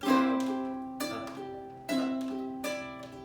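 A ukulele strummed down and up with a tense, tight right hand, giving four harsh, ringing chord strokes in a slow steady pattern, played alone and close.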